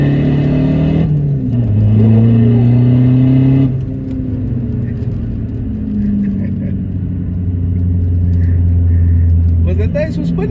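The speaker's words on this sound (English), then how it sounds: "Let me give a second gear pull here." A VW Polo 1.9 TDI pulls hard through second gear, its engine note climbing loudly, dropping briefly at a shift, then rising again with road rumble, close inside the car while voices talk over it.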